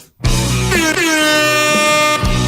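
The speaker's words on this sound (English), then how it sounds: "Nothing says Brian Moote like an air horn." A loud, blaring air horn sound effect on a talk show, a single sustained multi-toned blast lasting about two seconds, with a short pitch wobble near the start and nothing else heard.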